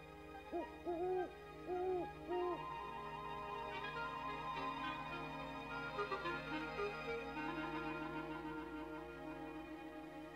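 Great horned owl hooting in the wild, several deep, clear hoots in a short rhythmic series near the start, then fading into steady background ambience.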